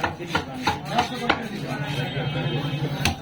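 A big katla fish is hacked apart at a busy fish market with a series of sharp, heavy blade chops on a board, close and loud, over a steady background of voices and crowd bustle.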